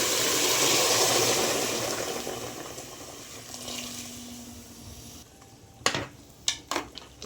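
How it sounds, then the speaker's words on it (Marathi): Hot water pours into a pressure cooker of chicken soup, a loud rushing splash that fades to a simmer, then a few sharp metallic clanks of a pot or utensil close by. "आता आपलं गरम पाणी टाकून देऊया."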